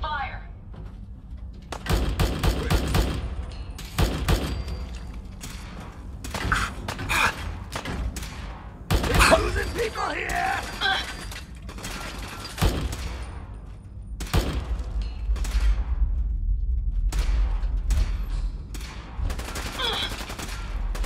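Fallout 4 combat: loud gunshots and rapid bursts of automatic fire arrive in clusters with thuds between them, while voices shout through the exchange.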